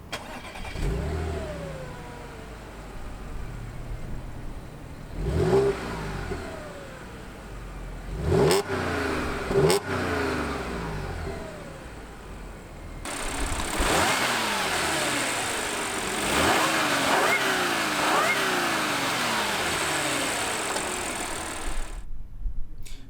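The 3.0-liter supercharged V6 of a 2015 Audi S4 revs several times, sharp rising and falling bursts over a steady idle, then a sustained louder rev near the end before cutting off abruptly.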